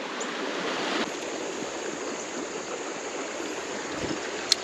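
A wild mountain stream flows steadily nearby, a continuous rushing and gurgling wash of water with no talk over it and one small click near the end.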